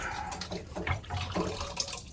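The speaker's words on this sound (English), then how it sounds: "So a little bit of water comes out, not too much" Water drips and trickles from the lines of a boat's water maker into a catch container while the pre-filter is changed, a close, steady patter with small irregular splashes.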